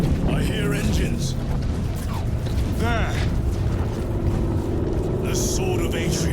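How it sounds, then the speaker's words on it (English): Engines approach in Warhammer 40k: Space Marine 2, a loud, continuous low rumble with a rising whine under game battle noise, while a voice speaks briefly over it. "I hear engines."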